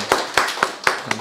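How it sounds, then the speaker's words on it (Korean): A church congregation claps in welcome for newcomers at a Sunday worship service, with about five sharp separated claps spaced roughly a quarter second apart, close and moderately loud. "우리 박수로 한번 환영하겠습니다."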